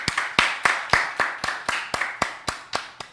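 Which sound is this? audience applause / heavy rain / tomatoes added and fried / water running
audience applause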